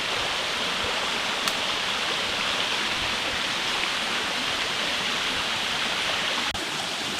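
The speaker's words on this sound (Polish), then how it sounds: "Jak słyszycie, o ile słyszycie, dotarłem już nad wodospad." A constant roar of falling water at Pamuayan Waterfall in the Philippines, dense and hissing, steady and loud with no pauses, as if standing close to the falls.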